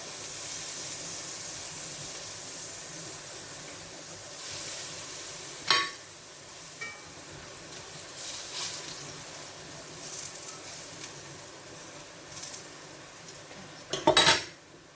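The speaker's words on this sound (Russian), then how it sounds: "пока жарятся наши баклажаны, я налила в сковородку масло следующую" Eggplant fries in oil in a pan, giving a steady soft sizzle and hiss with sharp clinks of utensils against cookware, the loudest clatter around the middle and near the end.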